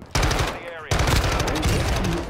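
Rapid automatic gunfire in Call of Duty Modern Warfare 2, loud and close, two sustained bursts with a brief gap between them.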